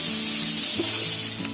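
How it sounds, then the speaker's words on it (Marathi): Chopped capsicum and spring onion fry in a pan for dragon chicken, giving a close, steady sizzle with a couple of soft stirring scrapes over about a second and a half. "त्याचं चांगलं मी 2-3 मिनिटं ढवळून घेतलंय बघा. चांगलं फ्राय झालंय."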